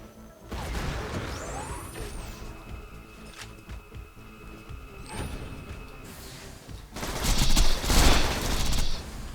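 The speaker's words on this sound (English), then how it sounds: "Firing laser." Laser fire in Borderlands 2 during a Digistruct Peak raid: bursts of rapid shots and crashing impacts with whooshing sweeps, growing louder and denser toward the end, with no talking.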